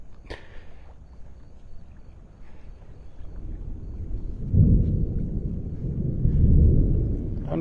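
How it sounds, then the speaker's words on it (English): Distant thunder rolls over Delnor-Wiggins beach in North Naples, Florida, on a warm morning. A low, deep rumble swells gradually, with breeze and surf noise beneath it. "But the thunder's coming from over there, lightning thunder."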